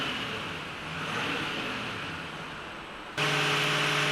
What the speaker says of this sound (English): 2000 RPM saw the V8 start to spool up the mighty GT35, and our first hint of turbo noise coming out